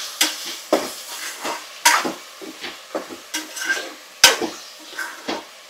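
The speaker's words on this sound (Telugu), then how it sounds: "అల్లం వెల్లుల్లి పేస్ట్ వేసాక కొంచెం పచ్చి వాసన పోయేలా వేయించుకోవాలి." Ginger garlic paste frying on a low flame in a pan, with a soft steady sizzle under repeated sharp scrapes and clinks of a spoon stirring against the metal, close by, with no voices.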